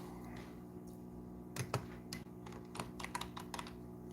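Soft, irregular clicks of typing on a computer keyboard while logging bird sightings, a handful of quick taps in short bursts over a low steady indoor hum.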